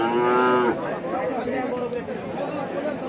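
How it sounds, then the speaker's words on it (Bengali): A red calf gives a loud, drawn-out moo up close, then people chatter in the background of a busy outdoor cattle market in Naogaon. "এখানে দেখেন মাশাআল্লাহ অনেকগুলোই একসাথে 3টা লাল বাছুর।"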